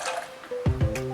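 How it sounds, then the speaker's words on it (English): A lemon and water mixture is poured into hot milk on the stove, heard as a few quiet drips and squishy splashes of liquid, close and brief. "then I'll be adding this lemon and water mixture"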